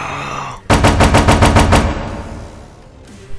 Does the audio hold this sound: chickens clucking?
no